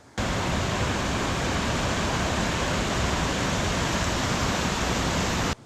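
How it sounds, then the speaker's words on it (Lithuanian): A waterfall in Laos roars as a dense, constant broadband rush of falling water, loud and close, with no voices and no change in level throughout. "Čia atėjau prie tokio krioklio."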